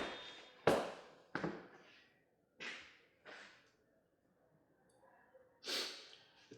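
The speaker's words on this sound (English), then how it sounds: "It's when I hear the first gunshot." Gunshots in a film's nightclub shooting scene ring out as sharp, loud bangs, several spaced apart over a few seconds with short decaying tails and quiet gaps between them.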